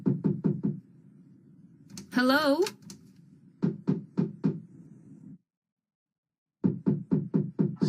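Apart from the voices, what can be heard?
banging on a door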